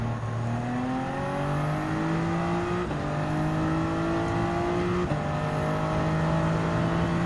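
Toyota Supra GR Racing Concept race car engine in Gran Turismo 7 on the Grand Valley Highway circuit, a steady loud drone with rising harmonic sweeps as it accelerates through the gears, two short gear-change dips, no talk.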